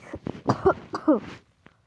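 A person coughs and clears their throat several times in quick succession, close and fairly loud, followed by a short quiet pause and a faint click.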